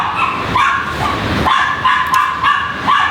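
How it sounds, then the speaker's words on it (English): Several dogs bark and yip repeatedly in loud, close bursts throughout, with a few higher whimpering yelps mixed in and no talking. "The dogs are barking."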